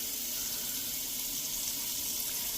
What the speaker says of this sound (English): let's fill this with water.